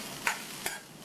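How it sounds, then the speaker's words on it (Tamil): Grated coconut sautéed in a pan over a medium flame, a steady low sizzle with two quick scraping stir strokes, close by. "தேங்காய் துருவலில் இருக்கிற ஈரப்பதம் போய் நல்லா வாசனை வர வரைக்கும் ஒரு 4-5 நிமிஷத்துக்கு மீடியம் ஃப்ளேமில் வச்சு வதக்கிக்கணும்"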